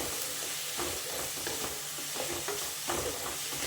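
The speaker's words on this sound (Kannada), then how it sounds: "ನೋಡಿ ಈ ರೀತಿ ಚೆನ್ನಾಗಿ ಎಣ್ಣೆಯಲ್ಲಿ ಹುರ್ಕೊಳ್ಬೇಕು" Masala spices frying in oil in a pan while palak paneer is being made, a steady close sizzle with scraping stir strokes throughout, no talking.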